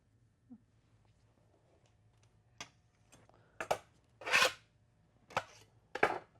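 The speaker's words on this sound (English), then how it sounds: "I scrape off all the excess chocolate." A tool scrapes excess chocolate off a chocolate mould in a few short, separate strokes, each one a faint rasp or click, the later ones louder and harsher, in a quiet room with a low hum.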